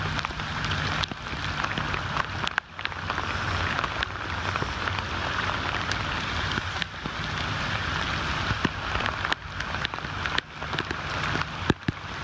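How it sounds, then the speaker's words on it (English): Steady heavy rain pours down during Hurricane Harvey in a flooding Houston neighborhood, a dense continuous wash of drops on surfaces with a few brief gusty bumps, no voices. "Rain continues to fall."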